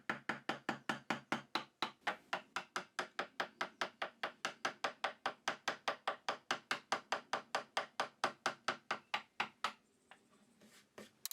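Steady, evenly spaced mallet taps on a chisel chopping into reclaimed hardwood, about four crisp knocks per second for nearly ten seconds, close and clear, then stopping into quiet room tone.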